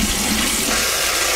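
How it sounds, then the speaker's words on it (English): Water pours steadily into a turkey roasting pan, a continuous rushing splash close by with no talking. "And now we're going to take and put water into this."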